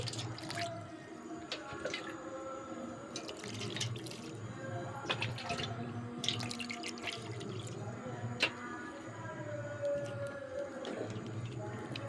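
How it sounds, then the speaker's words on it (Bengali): Maida dough is kneaded and washed in water, with soft sloshing, squelching and dripping sounds, a low steady hum beneath, and occasional clinks, fairly quiet and close. "এখন আমি এই ডোটায় ভালোভাবে জল দিয়ে ধুয়ে নিচ্ছি"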